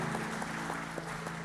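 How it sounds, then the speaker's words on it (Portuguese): An audience at an evening men's church service applauds for Kelvin, a steady, dense burst of clapping close by with a sustained low tone underneath. "Vamos aplaudir o Kelvin."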